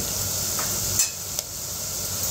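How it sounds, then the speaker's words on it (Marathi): Onions frying in a pan while being stirred, a steady close sizzle with a couple of brief utensil scrapes and clinks against the pan. "एकदा हलवून घेऊयात"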